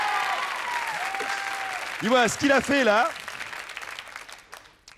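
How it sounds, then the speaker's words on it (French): A TV prank-show studio audience applauds a guest, a soft spread of clapping running beneath someone talking before fading out. "On l'applaudit encore?"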